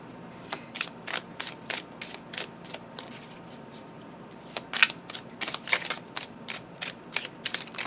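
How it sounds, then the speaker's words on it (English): A 49-card oracle deck of thick cardstock being shuffled, a run of crisp flicking riffles and slaps in uneven bursts, close and clear with no talking. "it shuffles so beautifully that you're going to want to shuffle it this way"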